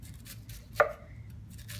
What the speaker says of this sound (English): I'm going to start by chopping up the cabbage and giving it nice thin cuts